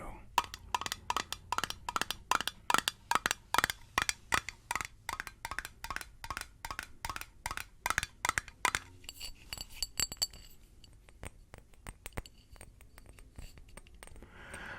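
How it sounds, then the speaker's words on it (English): A glass jar is handled in a quiet room, producing a long run of rapid, rhythmic taps and clinks, close and crisp, followed by sparser, softer clinks. "Glass is such a versatile trigger. I love it. Especially in jar form."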